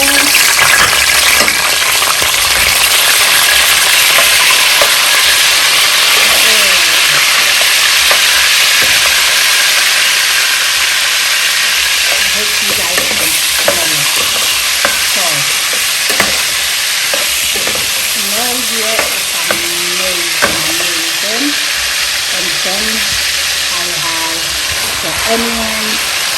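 Tolo beef fries in a pan for Ghanaian oil rice with a constant loud sizzling hiss, broken by frequent scraping stir strokes; a voice talks intermittently over it in the later part.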